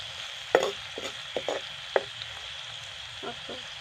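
Onions frying in a pan with turmeric and salt give a soft, steady sizzle, broken by a few light taps of a spoon against the pan.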